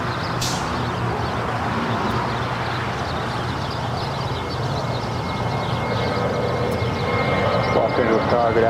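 A jet airliner at Los Angeles LAX airport roars steadily and loudly throughout, its engine noise dense and continuous, with a voice talking over it.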